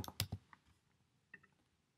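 Clicky keystrokes on a computer keyboard, a quick cluster of three or four taps followed by a pause and a couple more, close and fairly quiet with no talking.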